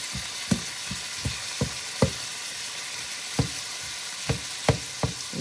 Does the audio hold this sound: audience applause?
no